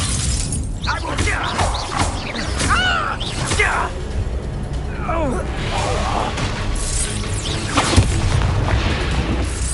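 A magic spell blast goes off in the video game Hogwarts Legacy, with a sharp boom near the eight-second mark over a busy bed of crackling magic, shattering impacts, combat effects and game music, and voices talking throughout.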